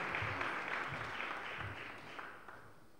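Faint, steady applause from an audience at a CONI sports merit award ceremony in Novara province, a dense patter of hands that gradually fades over a few seconds.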